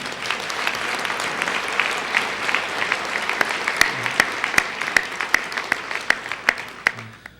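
Audience applause at an MLK Day breakfast, a steady round of many people clapping that thins toward the end into a few louder individual claps.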